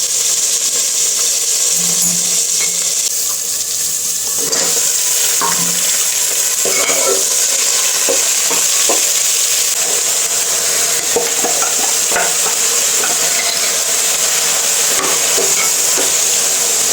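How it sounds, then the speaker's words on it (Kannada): Soaked legumes fry in a little oil in a home kitchen pan, making a continuous close hiss and sizzle with occasional scraping and stirring clicks throughout. "ಕಾಳು ಹಾಕ್ತಾಯಿದ್ದೀನಿ. ಸ್ವಲ್ಪ ಎಣ್ಣೆ ಫ್ರೈ ಮಾಡ್ಕೋಬೇಕು"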